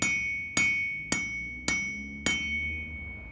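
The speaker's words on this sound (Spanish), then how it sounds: "Golpes y más golpes." Hammer striking metal five times at an even, unhurried pace, each blow a sharp bright ringing clang with a long shimmering decay, close and alone.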